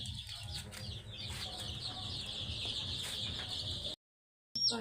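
Young chicks cheep with high, constant peeping close by, over a low rumble, before the sound cuts out briefly.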